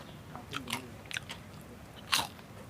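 Crisp bites into thin, crunchy sweet roti, a few sharp crackly crunches spaced apart with one louder bite near the end, close and alone with no talking.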